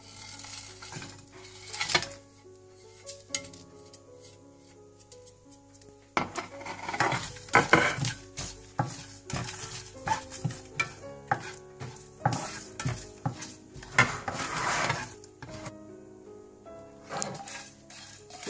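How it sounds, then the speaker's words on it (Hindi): Whole dry spices for nihari roasting in a pan, stirred with a metal utensil that clinks and scrapes in irregular bursts over a faint sizzle, quiet at first and busier after a few seconds. "सबसे पहले आपने ये जो मसाले हैं सारे ड्राई, आपने इनको ड्राई फ्राई कर लेना है।"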